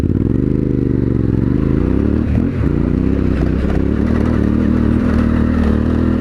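A 2020 Yamaha Ténéré 700 adventure motorcycle drones loudly and steadily up close off-road, its pitch rising and falling, with rattles and scrapes from rough ground.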